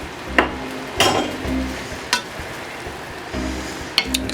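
A spoon stirs lemon juice into tender cooked Swiss chard in a pan, with scraping strokes and metallic clinks against the pan at irregular intervals over a soft sizzle, close up and with no talking.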